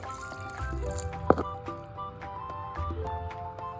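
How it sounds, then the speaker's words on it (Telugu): Water poured by the glassful into a pressure cooker holding lentils for a sorrel-leaf dal, a soft splashing trickle under steady background music, with a brief sharper splash near the middle. "ఏ గ్లాస్తో అయితే పప్పును తీసుకున్నామో అదే గ్లాస్తో 4 గ్లాసుల వాటర్ వేసుకోవాలి"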